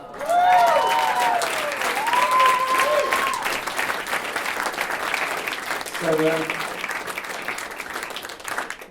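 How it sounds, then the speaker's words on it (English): Wedding guests clap for the bride during a groom's speech, a loud burst of applause that swells early and slowly tapers, with a voice speaking briefly near the end. "let's all just give her a little clap for shining"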